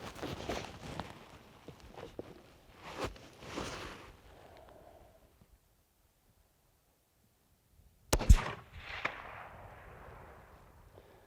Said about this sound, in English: I could see my shot in the scope.